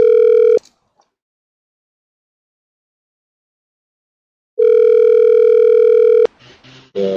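A steady telephone dial tone heard while a call is placed: a loud, clean tone cuts off briefly, returns for about two seconds, then stops, followed by faint clicks and a short muffled voice.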